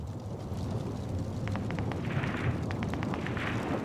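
Rocket blasts from Warzone gameplay on Caldera come as dense rumbling booms under a constant low roar, with a cluster of sharper crackling impacts toward the end.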